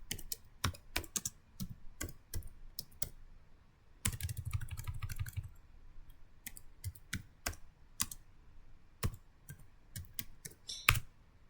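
Someone types a command on a computer keyboard, sharp isolated key clicks at an irregular pace with a brief quicker burst of keystrokes midway, close and clear in a quiet room.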